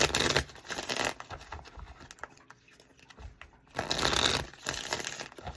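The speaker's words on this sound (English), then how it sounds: "It even shuffles really good, too." Muse Tarot deck being shuffled by hand, soft riffling and papery card slaps in two bursts with a quieter pause between, close and fairly faint.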